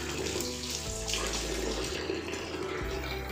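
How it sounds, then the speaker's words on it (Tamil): Hot water runs steadily from a tap during a Barbie doll's bath, a continuous close splashing stream that holds throughout with slight shifts in flow. "தண்ணி நல்லா சூடாக சூப்பராக வருது."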